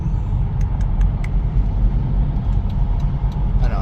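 A BMW with a Gen 1 B58 engine and titanium racing intake runs in sport mode, giving a steady deep low rumble, close and continuous, with a few light ticks on top.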